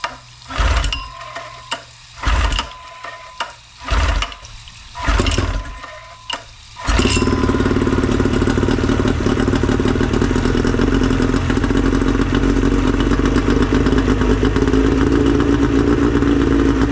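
A cheap outboard motor, newly fitted with a rubber fuel line, gives several short pulling bursts, then catches and runs steadily at a loud, continuous idle.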